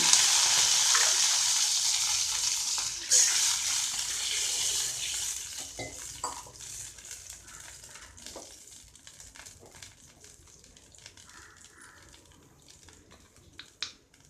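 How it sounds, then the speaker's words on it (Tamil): A sharp hiss and sizzle as water is poured into a hot pan of roasted semolina for rava upma, loud at first and then gradually fading into quieter bubbling and crackles. "இப்போ தண்ணி ஊற்றுறேன்"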